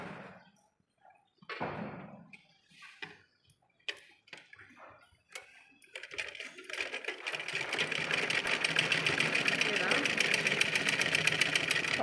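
A sewing machine runs steadily for several seconds stitching over a quarter-inch fabric fold, a close, continuous rapid whir that builds after a few brief clicks and handling noises at the start.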